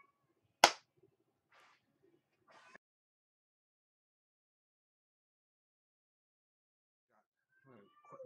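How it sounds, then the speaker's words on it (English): A single sharp hand clap near the start, made to sync the recording, stands out loud and close against a quiet room, followed by brief soft rustles and faint talk toward the end. "I'm going to make the hand clap for synchronization."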